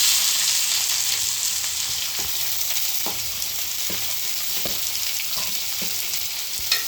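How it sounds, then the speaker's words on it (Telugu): Chopped onions frying and sizzling in hot oil in a pan, a steady loud crackle with a few soft stirring knocks, and no one speaking. "ఇప్పుడు ఆనియన్స్ ఫ్రై చేద్దాం."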